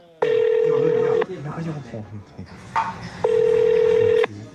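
Two long steady electronic tones, like a phone ringback or dial signal, each about a second, separated by a gap with background voices and clatter.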